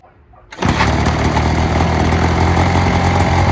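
A 43cc two-stroke gas backpack leaf blower starts after a quiet moment and immediately runs loud and close with a steady buzzing engine roar.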